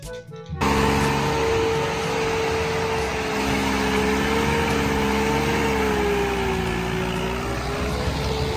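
A small toy tractor motor whines steadily at a high pitch after a brief click, running continuously and close with a slightly wavering tone.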